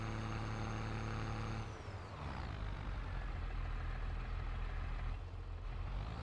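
A tractor engine in the video game Farming Simulator 22, its loud steady drone shifting pitch partway through as it works a hill, then holding a continuous rumble to the end with no talk.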